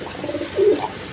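A pair of Moyna Jak pigeons, one hen and one cock, gives a short soft coo that swells briefly in the middle, close by, over faint background noise.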